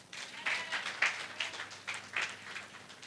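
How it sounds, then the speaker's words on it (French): A church congregation at a French-language worship service bursts into applause, a short spell of rolling, uneven clapping from many hands heard at moderate distance. "Acclame pour le Seigneur."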